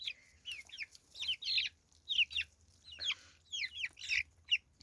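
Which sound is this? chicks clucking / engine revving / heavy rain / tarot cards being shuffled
chicks clucking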